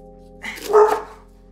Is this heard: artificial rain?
no